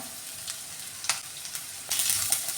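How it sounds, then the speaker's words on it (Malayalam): Carrots and thinly sliced onion sizzle in a pan for masala dosa filling, a steady close hiss of frying broken by a few soft stirring scrapes, with no voices. "ക്യാരറ്റ് ഇട്ട് കൊടുക്കുകയാണ് ഇനി ഇതിലേക്ക് ഈ സവാളയും കൂടി ഇട്ട് കൊടുക്കുവാണേ"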